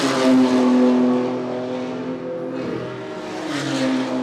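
A BMW 135i race car at a club race meeting on a circuit, engine droning loudly and steadily with shifting pitch as it runs at pace, one surge easing and another building near the end.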